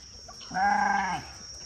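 A sheep on a small farm in Ghana bleats once in a long, wavering cry lasting about half a second, close and clear over quiet background noise.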